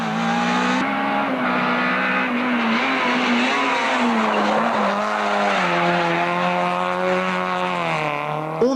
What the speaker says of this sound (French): toujours extrêmement rapide sur cette Opel Corsa